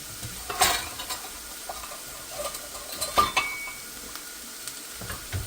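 Ground turkey cooking in a pan, pushed around with a spatula: a soft sizzle with scattered scraping strokes and a couple of louder knocks against the pan, nearby. No speech.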